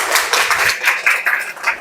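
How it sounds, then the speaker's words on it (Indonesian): Classroom audience claps in a nursing lesson on pre-anesthesia care, a brisk, close patter of many hands in a quick uneven rhythm with no talking. "tepuk tangan dulu"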